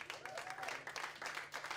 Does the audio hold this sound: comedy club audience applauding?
yes